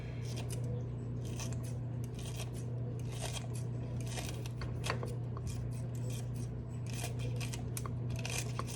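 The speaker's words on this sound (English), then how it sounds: "I do want this to have a bit of onion, so I am gonna cut up some more" Knife slicing through onion at an angle on a cutting board in a home kitchen, a steady run of crisp close cuts over a constant low hum.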